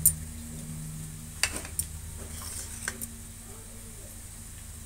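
Onion and ginger-garlic paste with spices frying in a pan for a dry cauliflower dish, a steady low sizzle with a few brief stirring scrapes and clicks, fairly faint and without talk.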